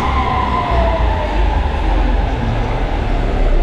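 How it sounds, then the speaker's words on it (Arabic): Budapest metro train, a loud continuous rumble of wheels and motors in the underground with a faint high whine rising over the roar, steady and close throughout. "احنا متجهين دلوقتي الان الى المترو، وده المترو يا جماعه"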